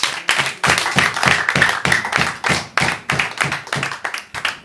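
A church congregation claps in praise of Jesus during a service: loud, steady rhythmic clapping of many hands at about three beats per second, close and continuous, with no speech.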